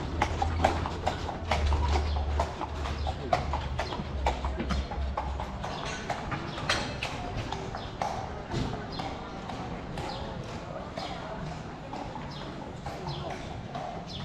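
Horse hooves clip-clop on a city street in Palma de Mallorca in the early evening, a steady rhythmic trotting at moderate distance with faint street ambience behind it.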